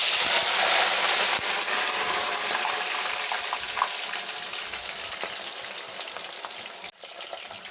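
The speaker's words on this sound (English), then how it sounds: "The oil is hot now. It's time for me to fry the" Irish potatoes drop into hot oil and fry with a strong, continuous crackling sizzle that slowly eases in loudness, with a brief dip near the end, heard alone without talk.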